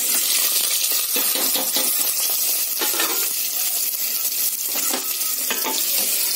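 Onions, ginger-garlic paste, curry leaves and green chillies frying in a pan for a fish salan, a dense, loud crackling sizzle that runs nonstop with occasional stirring scrapes, close up and without talk.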